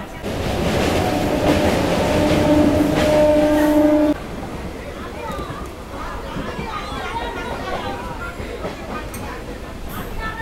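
Howrah–Digha local train pulling into Ramnagar railway station, a loud rumble with a steady tonal whine for the first few seconds, then fading to quieter rolling and clatter under voices and platform chatter.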